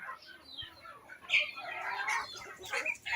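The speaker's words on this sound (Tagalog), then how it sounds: "May mga manok. Pati yung mga pato." Chickens and ducks in a backyard pen cluck and call in short overlapping bursts, fairly close, with light scratching and flutter between calls.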